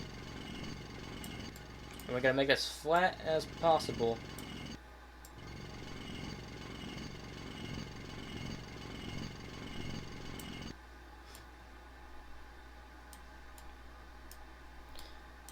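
Terrain being drilled in the ship-physics sandbox game Floating Sandbox: a continuous gritty grinding texture with rapid ticking pulses runs for about ten seconds, then cuts off to a quieter hum, while someone talks over the start.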